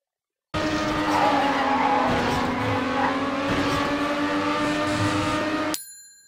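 A TrackMania race car drifts through a turn, its tires squealing loudly and steadily for about five seconds over the engine's drone, then cutting off abruptly.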